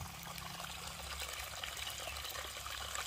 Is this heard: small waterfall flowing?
yes